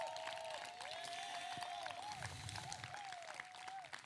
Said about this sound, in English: Can we please give another loud round of applause for Justin, because that was absolutely phen